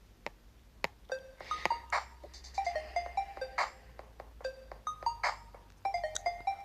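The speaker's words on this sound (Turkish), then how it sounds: "telefon çalıyor." A phone rings out during an outgoing call, giving repeated bright melodic chime tones in short patterned bursts, fairly quiet and continuing for several seconds over a low background hum without speech.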